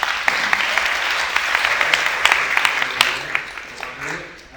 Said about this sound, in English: Let's give a round of applause to Chad for putting this together.